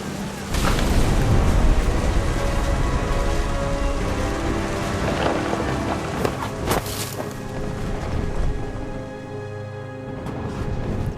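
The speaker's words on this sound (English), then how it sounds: "The thunder sounded much too close and full of angry power" Stormy rain in the video game What Remains of Edith Finch, a dense steady wash of downpour with occasional deeper rumbles of thunder, loud and continuous throughout with no talking.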